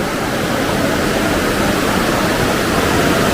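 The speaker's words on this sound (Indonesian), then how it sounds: "Pembuangan airnya langsung ke sungai." Water rushing steadily through a drainage channel beneath a road, emptying straight into a river at the edge of a Bandung forest; a dense, continuous broadband roar, close and unchanging, with no voices.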